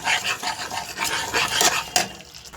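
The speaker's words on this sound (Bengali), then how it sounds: "মশলা খুব ভালো করে এবারে কষাতে হবে" Spice masala stirred and sautéed in a pan for a brinjal dish, heard as brisk, loud scraping and clattering of a spoon against the pan over a hissing sizzle, in quick uneven strokes.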